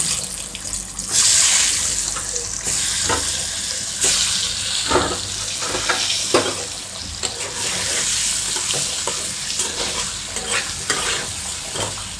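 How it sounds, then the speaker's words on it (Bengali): An egg fries in hot oil in a kadai wok, giving a loud continuous sizzle broken by repeated scraping and stirring strokes, with no talk. "এখন আমি একটা কড়াইতে গরম তেলে ডিমটা ফ্রাই করে নেব।"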